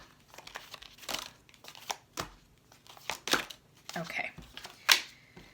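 Tarot cards are pulled from a deck and shuffled during a reading, giving bursts of papery crinkling and flicking at an uneven rhythm, close and fairly quiet, with a person talking at times.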